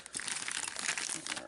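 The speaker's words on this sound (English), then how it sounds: "So I can get this baggie open." A plastic baggie is pulled open with close, continuous crinkling that lasts about a second and a half, faint and steady, with no other sound over it.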